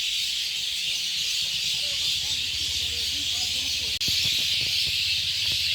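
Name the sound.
birds chirping while returning to roost at dusk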